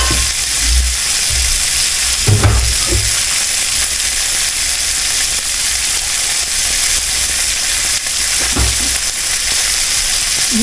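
Cubed steak, four pieces, sizzles and hisses steadily in a skillet after water is added to steam it, with a few soft clanks of utensils against the pan and no talking.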